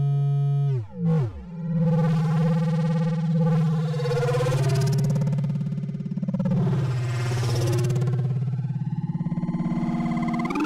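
Audio feedback effect applied over and over on itself, a rising, swelling electronic tone that grows harsh and distorted, sustained and loud for about ten seconds, alone.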